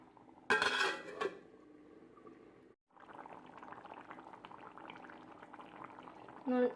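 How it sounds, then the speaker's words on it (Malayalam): Fish simmers gently in gravy inside a covered pan, giving a soft, steady bubbling hiss, with a loud clatter of the pan lid near the start, a brief pause, then continued low simmering. "നമ്മുടെ മീൻ നല്ല പോലെ ഇവിടെ കിടന്ന് ഗ്രേവിയിൽ കിടന്നു നല്ല പോലെ ഒന്ന് കുറുകുന്നുണ്ട്"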